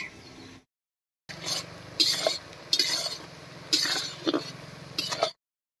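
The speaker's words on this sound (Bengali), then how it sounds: "পেঁয়াজটা ভাজা ভাজা হয়ে গেছে" Onions fry in a pot for a chicken curry, with a low sizzle under repeated metal clinks and scrapes from stirring, coming in bursts after a short silence.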